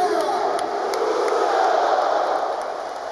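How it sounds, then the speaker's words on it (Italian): Stadium crowd at an Inter versus Napoli match applauding a goal, a broad sustained roar of cheering and clapping that swells and then eases slightly, with no clear voices standing out. "tutti in piedi ad applaudire questo fuori classe, Lucio!"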